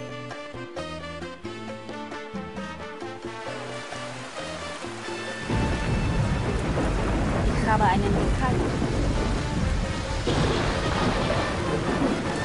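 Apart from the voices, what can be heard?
thunderstorm in the video game Tropico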